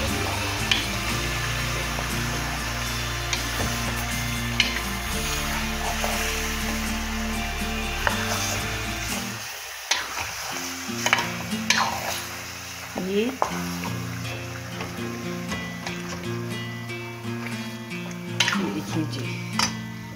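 Ground masala is stirred and fried over high heat in a karahi, giving a steady sizzle with scraping and clinks of a metal spoon against the pan, while someone talks throughout.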